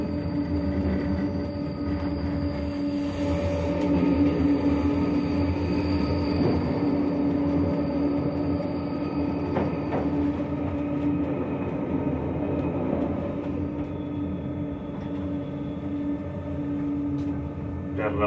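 Bernina Express train running on a mountain line, heard from the driver's cab: a steady low rumble and hum with faint wheel squeal and clicking, continuous throughout, with someone talking quietly over it.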